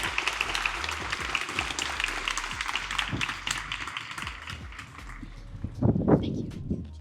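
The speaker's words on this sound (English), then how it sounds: "Let's give Jeff a round of applause." Applause from the audience at an AI summit at Santa Clara University, a dense crackle of clapping filling the room for several seconds, with a louder swell near the end and faint voices mixed in.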